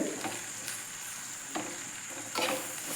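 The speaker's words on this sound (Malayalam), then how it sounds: "ഇതൊന്ന് നമുക്ക് ഇളക്കി കൊടുക്കാം തേങ്ങയൊക്കെ നന്നായി വെന്തിട്ടുണ്ട്" Grated coconut thoran being stirred in a hot pan, a few distinct scraping stirs over a steady low sizzle, close and clear with no talking.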